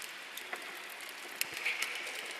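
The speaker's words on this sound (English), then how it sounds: "Sounds like rain." Soft, hissing patter like light rain, with scattered faint drops and crackles, quiet and steady for a couple of seconds.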